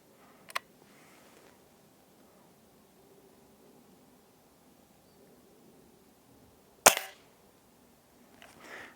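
A Hatsan Model 25 Supercharger .177 air pistol fires a single sharp, springy crack near the end, following an earlier faint click, with quiet room noise between and a soft rustle afterward.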